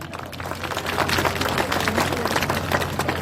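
A dense, steady wash of applause from an audience at the 59th Wanju County Citizens' Day ceremony, many hands clapping together at close range without pause.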